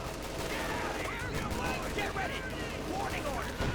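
Rattling machine-gun fire in a Company of Heroes 2 battle, busy and continuous with other combat noise, mixed under a voice talking throughout.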